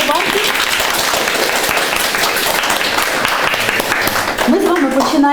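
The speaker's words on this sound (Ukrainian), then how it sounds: "Ну що ж, тепер це можна скріпити оплесками." Audience applause at a university journalism faculty's memorandum signing with a children's and youth creativity centre, steady dense clapping throughout with a voice rising briefly near the end.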